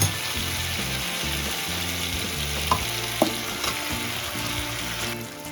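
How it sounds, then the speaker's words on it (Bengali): Cauliflower frying in a pan for a rui fish curry, with a steady sizzle and scraping stirs of a spatula, a few sharp clicks standing out near the middle. "একটু নেড়ে দিলাম, ফুলকপিটা দিয়েছি, একটু নাড়াচাড়া করে দিচ্ছি সুন্দর করে"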